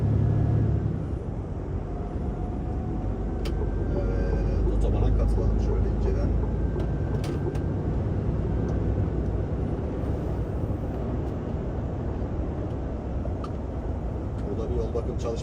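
An empty semi-truck with its trailer unloaded drives at full speed on a highway, giving a continuous low road rumble and engine drone heard from inside the cab. Someone talks over it throughout.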